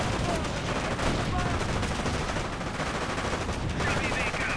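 Submachine guns rattle in a video game battle between American Rangers and Volkswagen-crewed and Grenadier troops, a dense, continuous wall of rapid gunfire and battle noise that never lets up, with a voice faintly present underneath.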